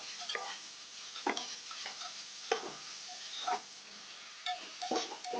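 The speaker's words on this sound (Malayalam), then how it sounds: "ഇനി നമുക്ക് നല്ലവണ്ണം ഒന്ന് ഇളക്കി കൊടുക്കാം." Beef curry with onions being stirred in a pan, with a faint sizzle under repeated scraping and clinking of the spoon against the pan in irregular strokes.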